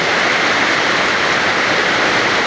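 Heavy rain pours down steadily in a seaside setting where people were swimming in the sea, a dense, loud, continuous hiss filling the whole stretch.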